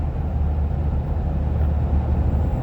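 A 2016 or newer Toyota Tacoma engine droning steadily in sixth gear while rolling downhill, a loud, even low rumble with road noise and no talk.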